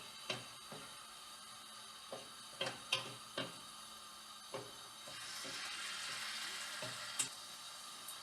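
Scattered sharp ticks and pops, then a steady hiss of chicken pakora frying in hot oil swells up in the second half, fairly close and quiet.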